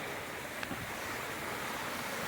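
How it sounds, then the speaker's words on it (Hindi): Water from a small waterfall stream flows down rocks on Table Mountain, a steady broadband rush with no breaks, fairly faint and partly mixed with wind noise across the whole stretch. "जो पानी ऊपर से आ रहा है वो यहाँ से होते हुए नीचे जा रहा है"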